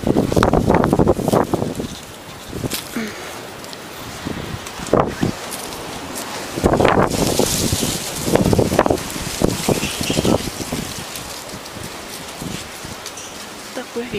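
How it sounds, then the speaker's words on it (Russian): Strong wind gusts through a vegetable garden, with rushing, rustling bursts rising and falling over open ground; someone speaks intermittently between the gusts. "Такой ветер."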